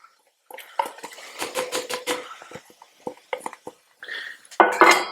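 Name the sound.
shallot added to a hot pan with oil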